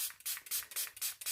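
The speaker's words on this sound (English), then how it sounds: "then I spray my water here" A small spray bottle spritzes water onto wet paint on a doll-decorated journal cover, giving a close, rapid run of six or seven short hissing bursts with brief gaps between them.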